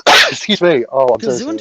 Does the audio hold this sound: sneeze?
yes